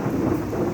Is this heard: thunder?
yes